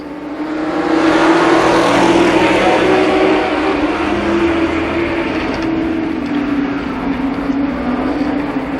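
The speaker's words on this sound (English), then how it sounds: "8 racing laps for the first limited sportsman heat race" Limited sportsman race cars at Columbus Motor Speedway roar together in a loud, steady engine drone that holds close and constant throughout, with no talk over it.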